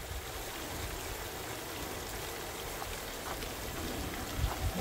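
Water fed by an 1100 GPH pump flowing across a gold highbanker, a steady hissing wash with trickling spatter and a slightly louder splash near the end.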